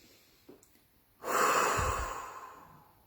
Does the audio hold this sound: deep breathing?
yes